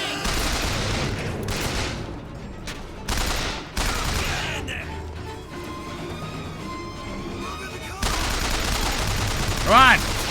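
Gunfire in Bioshock Infinite comes in loud bursts and single shots under game music and ambience, with a voice talking over part of it.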